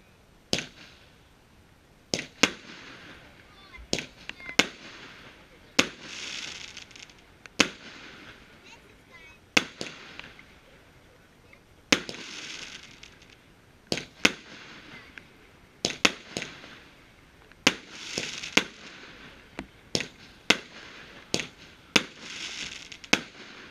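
New Year's Eve firework battery shots go off one after another, sharp loud bangs at uneven intervals, each followed by a brief crackling hiss.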